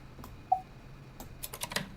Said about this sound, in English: So you can hear the beeping sound and the typing sound, right?